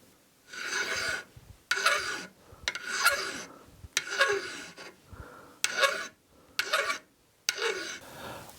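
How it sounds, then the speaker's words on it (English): Metal file rasping along the domed cross peen of a jewelry hammer, heard as eight close, separate strokes of roughly half to one second each, with short quiet gaps between them and no talking. "making it nice and smooth along the edge with our file"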